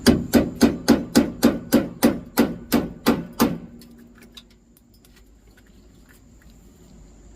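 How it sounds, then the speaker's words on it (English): Hammer blows on a chisel splitting a rusted nut on a Jeep YJ body mount: about eleven loud, evenly spaced metallic strikes, then quiet with faint clatter. "I'm going to use a chisel and we're going to try and pop that nut apart so we can get the bolt down through"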